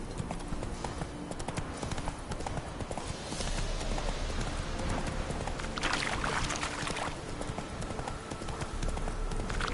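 Video game horse hooves gallop in a quick, steady clip-clop rhythm during a race, continuing throughout with brief game sound effects layered over them.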